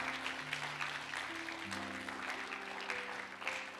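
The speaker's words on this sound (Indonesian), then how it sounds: "Beri tepuk tangan untuk Tuhan" Church congregation clapping steadily, a dense patter of applause with sustained tones humming underneath, at moderate volume.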